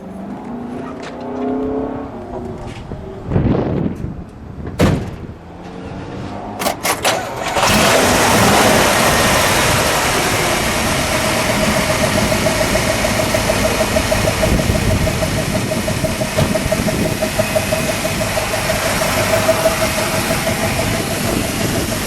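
A 1956 Oldsmobile 98 Starfire convertible engine cranks and catches after a few clunks and brief voices, then settles into a loud, steady, close idle that runs evenly to the end.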